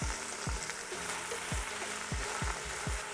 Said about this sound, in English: We just wanna saute it until it gets a little bit softer